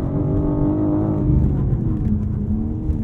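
A 2022 BMW M4 Competition xDrive's turbocharged engine pulls hard under acceleration, a steady, loud, close drone that holds and builds slightly without pause, heard alone with no talk.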